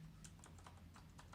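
Keys click on an MNT Reform laptop prototype with custom keycaps, a quick run of light, distinct taps close to the microphone, faint and with no talk.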